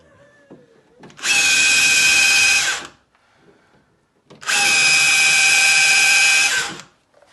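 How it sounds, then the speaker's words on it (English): A power drill whines loudly into a wall during radiator replacement in two sustained bursts of a couple of seconds each, separated by a short pause, close up. "We need the drill. I'm gonna need a bigger drill."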